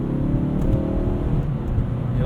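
A 2018 Mazda 3 Grand Touring with a six-speed automatic, driven in manual mode at night, its engine droning and revving steadily from inside the cabin as it climbs through the gears, loud and continuous.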